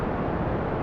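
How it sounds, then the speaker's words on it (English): Rocket engine roar during a launch in the video game Kerbal Space Program, a steady loud broadband rumble holding evenly with no break, with no voices over it. "We're going to go ahead and launch this right away."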